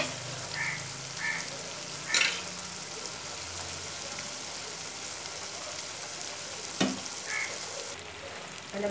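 Masala spice powder fries in a pan for a mutton head curry with a steady, close sizzle, broken by a couple of sharp clinks from stirring.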